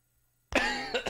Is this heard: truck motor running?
no